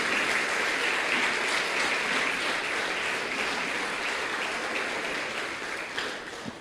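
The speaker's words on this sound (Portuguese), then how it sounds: "vamos aplaudir Jesus, Ele merece" A church congregation stands and applauds, with loud, continuous massed clapping that holds steady and then eases slightly toward the end.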